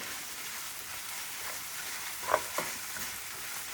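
Salmon skin crackles softly in a pan, a low, even sizzle with a couple of brief sharper pops near the middle, quiet and steady with no voices.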